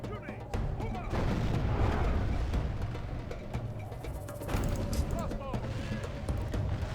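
A strategy video game battle roars with constant gunfire and artillery, a dense rumbling wall of shots and booms with no pauses, while a voice talks over it.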